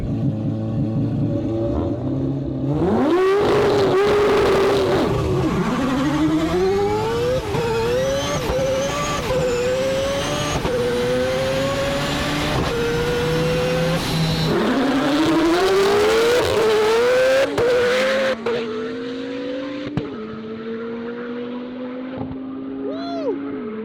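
An AWD four-rotor rotary car launches in a drag race, a loud rising engine scream climbing through several gear changes before fading into the distance.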